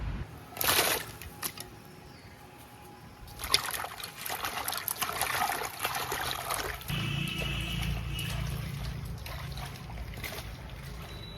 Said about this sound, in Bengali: এই দেখুন একবার ধুয়ে নিলাম ভালো করে